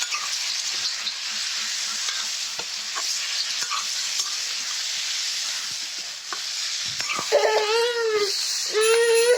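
Boiled pork sizzles and crackles steadily in hot oil in a pan, with occasional scraping stirs; a voice speaks briefly over the frying toward the end.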